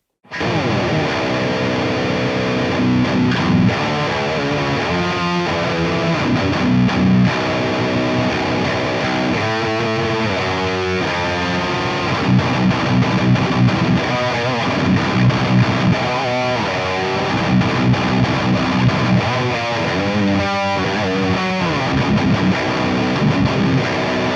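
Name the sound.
distorted metal guitar through Line 6 Pod Express Black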